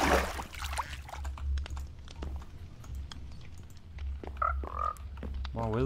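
Frog croaks from the video game Seaopolis 2, a few short calls rising over a low steady game hum, with brief tonal chirps near the end and no one talking.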